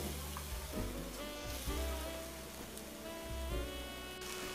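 Liver and onions sizzle and simmer in a pan after a splash of water, a steady close frying hiss with occasional stirring scrapes and no voices.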